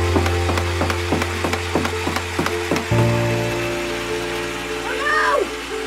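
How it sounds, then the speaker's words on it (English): A Nerf Elite Titan CS-50 motorized blaster fires darts indoors in a rapid, evenly spaced series of about eight sharp thumps over a steady motor whir, then the motor pitch shifts and hums on alone. "Firing the Titan CS-50."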